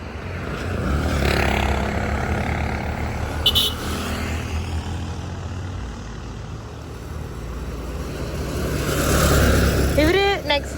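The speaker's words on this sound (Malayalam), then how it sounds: "ഓ, പന്നീനെ കൊണ്ടുപോണോ വണ്ടി." A vehicle hauling pigs rumbles past on a road in El Salvador, a steady loud engine roar swelling and fading, with brief squeals near the end.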